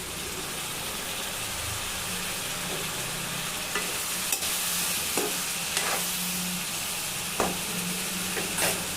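Drumsticks (moringa pods) go into a frying pan with tomatoes, giving a steady loud sizzle with a few sharp clinks and scrapes of stirring scattered through it.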